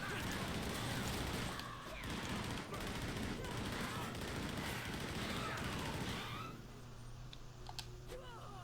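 Turrets fire in Warhammer: Chaosbane, a dense rapid crackle of game gunfire and impacts that fills most of the clip before thinning to scattered hits, mixed with keyboard clatter.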